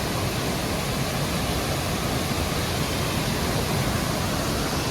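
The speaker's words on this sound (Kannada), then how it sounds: "ನೋಡಿ ಎಲ್ಲೋದ್ರೂ ಮಳೆ ಮಳೆ ಮಳೆ ಮಳೆ. ಅಲ್ಲಿ ಬರ್ತಿದೆ, ಇಲ್ಲಿ ನೋಡಿ ನೀರು ಫ್ಲೋ ಹೆಂಗಿದೆ" Steady, dense rush of rainwater flowing during rain fills the whole stretch without pause, loud and continuous like runoff pouring nearby.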